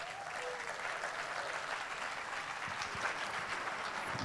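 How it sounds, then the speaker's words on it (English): Steady applause from an audience at a leadership conference, sustained clapping filling the whole stretch at moderate volume with no speech over it. "Don't stop clapping until he sits down."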